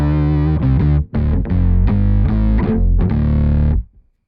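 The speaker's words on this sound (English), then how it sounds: "So the octave sound has a different sound, a different tone and shaping" Electric guitar through a Kemper Profiler with a thick, distorted tone and an octave-shift effect layer, playing a short run of sustained notes before ringing out.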